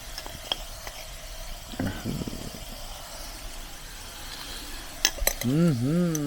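Potatoes with turmeric and spices are stirred in a pan on a farm: a faint sizzle runs underneath while a spoon scrapes and clinks against the metal in sporadic bursts, close and fairly quiet.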